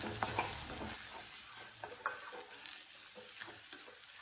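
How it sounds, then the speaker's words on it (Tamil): Tomatoes sauté in a pan for dry fish kulambu, a faint sizzle broken by occasional scraping and clinks of a ladle, close by and quiet, no voices. "தக்காளி நல்லா வதங்கணும்"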